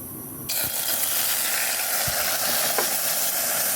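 Beef pieces frying in cooking oil at an outdoor backyard camp cookout, a steady close sizzle setting in abruptly and continuing with light clicks and stirring scrapes, no talking.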